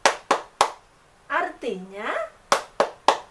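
A child's clapping chant for Surah Al-Fatihah, with three sharp claps, a short sung or spoken phrase, then three more claps, close and clear in a steady rhythm.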